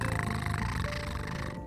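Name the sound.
voice imitating a cat purring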